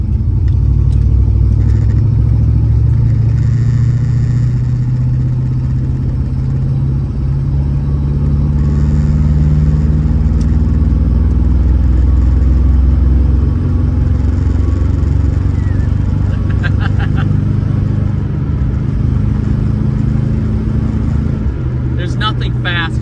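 A Dodge Monaco's 318 engine drones steadily and loudly throughout, with low rumbling harmonics shifting as it pulls in a lower gear; road noise and faint clatter underneath.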